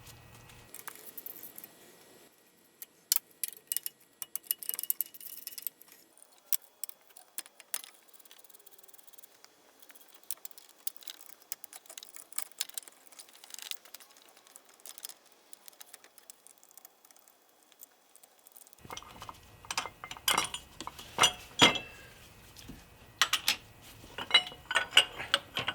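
A 12mm wrench loosens the mounting bolts on a Subaru WRX AC compressor, producing sparse metallic clicks, ratcheting and tool clinks that are faint and intermittent, then busier and closer toward the end.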